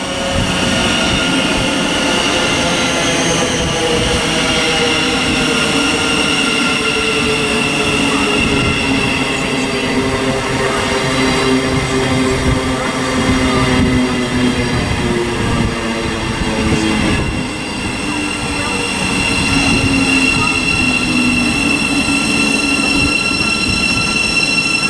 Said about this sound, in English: arriving now, we've got a 700 heading over to Brighton from Bedford